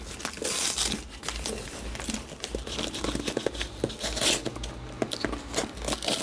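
A kitchen knife cuts and peels heavy packing tape off a Samsung Galaxy Tab 2 box, giving dense crinkling, tearing and scraping noises in quick irregular bursts close to the mic.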